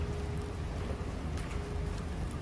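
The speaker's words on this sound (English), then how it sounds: "because it's raining" Rain falls steadily on a Tokyo street as an even, close hiss and patter with a faint tonal hum underneath, and no voices.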